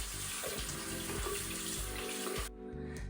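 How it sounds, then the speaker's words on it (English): Water from a bathroom tap runs steadily into a sink while retainers are rinsed, a close hissing splash that stops abruptly near the end, leaving a quiet room. "these I'm gonna give them a quick rinse"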